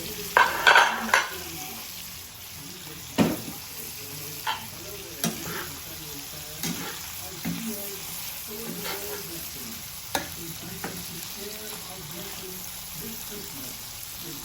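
Tofu is added to a hot pan and stir-fried with bean sprouts and shrimp, with a steady sizzle under repeated scraping and clinking strokes of a utensil against the pan at an irregular pace.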